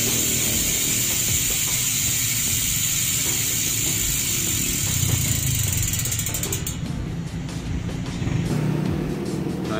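A Maxzone Aggressor rear bicycle hub spun freely off the bike, giving a loud, rapid ratcheting buzz from the freehub pawls that runs continuously, close up, and shifts in tone near the end as the wheel slows.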